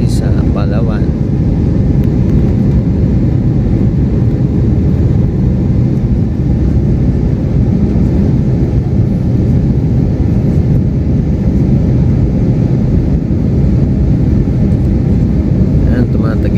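Steady, loud broadband cabin roar inside a turning airliner in flight, continuous low rumble and hiss throughout with no breaks.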